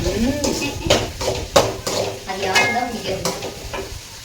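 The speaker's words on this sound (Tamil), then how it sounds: "நல்லா வெங்காயம் வதங்கிட்டு" Onions are being stirred and sautéed in a pan for a fish curry, with a steady soft sizzle and repeated scraping and clinking of a utensil against the pan at close range.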